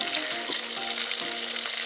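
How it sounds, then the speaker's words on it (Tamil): Chopped onions sauté in hot oil for a sea-fish gravy, a dense, even, close sizzle with faint rhythmic stirring scrapes beneath it. "போட்டு நல்லா பொன் வறுவலாக வதக்கணும்"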